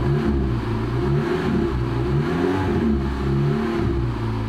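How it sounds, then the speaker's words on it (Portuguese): A car engine being diagnosed for a lambda sensor problem revs up from a 900 RPM idle, a loud close mid-pitched roar rising and falling through several throttle swells with no talking. "Vamos acelerar."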